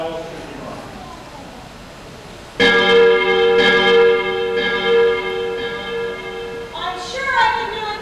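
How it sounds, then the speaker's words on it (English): Church bells ring out in a sudden loud peal after a quiet start, overlapping resonant tones sustaining and decaying for several seconds, with faint clopping at the opening. "I'll show you how the bells should be rung."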